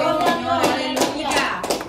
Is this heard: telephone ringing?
no